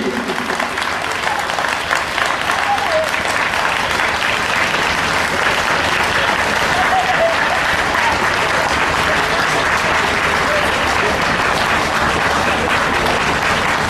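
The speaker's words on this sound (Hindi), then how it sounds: "तो तालियों के साथ स्वागत करिए दोस्तों, तालियां रुकना नहीं चाहिए" An audience at a religious cow-devotion katha gathering claps steadily and loudly for fourteen seconds, a dense unbroken wall of applause welcoming a speaker.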